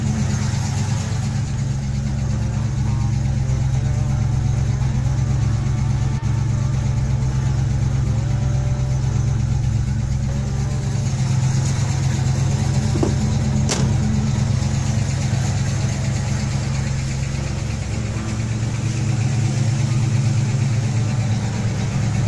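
A car engine idles steadily with a deep, even rumble, standing still as if waiting in traffic or at a stoplight while heat builds under the hood; the drone is continuous and close, with no talking over it.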